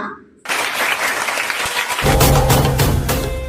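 An audience breaks into loud, sustained applause for a storyteller, the clapping starting abruptly and growing fuller partway through.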